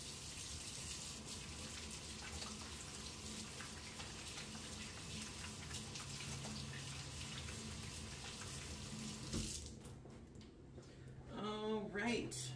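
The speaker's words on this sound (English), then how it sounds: "Let me just wash my hands real quick." Hands being washed under a running kitchen tap, a steady broadband rush of water flowing for several seconds before cutting off, followed by soft handling sounds.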